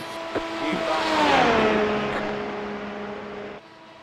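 A race car engine revs in a racing video game, rising to a loud whining pitch and then sagging as the revs bog down in a high gear. The engine note drops away abruptly near the end.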